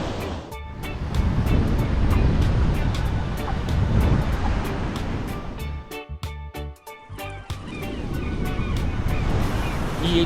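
Ocean surf rolls onto a beach with continuous washing roar and gusty wind buffeting the microphone, fairly close and steady with a brief dip midway.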